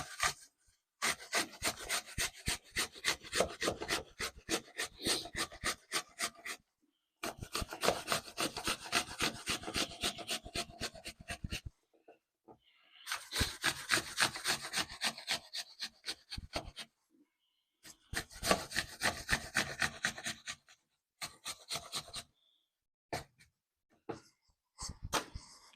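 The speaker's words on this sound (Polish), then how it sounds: "Mam tutaj jedno jabłko, które zetrę na grubych oczkach razem ze skórą." An apple with its skin on is rubbed against the coarse side of a grater in fast rhythmic strokes, four long runs of rasping scrapes separated by brief pauses, close and clear with no talking.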